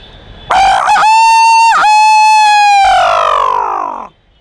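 A man imitates a rooster crowing with his voice. It is one loud, drawn-out cock-a-doodle-doo, close up, with a few quick breaks in the middle and a falling tail at the end.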